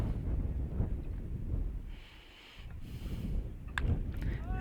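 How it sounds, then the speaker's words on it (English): Wind blows at a ballpark during a baseball game between the Andale Warhawks and Haysville Aviators, a steady broadband rush and buffeting that dips briefly midway, then returns strongly with faint distant sounds. "Still very windy here at the ballpark."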